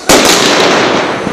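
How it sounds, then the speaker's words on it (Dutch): A firecracker blast goes off loudly and close during New Year's fireworks in a Rotterdam street, a sharp burst followed by a sustained crackling roar that fills the whole moment. "Rotjes dan weg! Rotjes, rotjes!"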